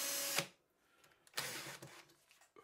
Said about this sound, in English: connected my electric drill to one end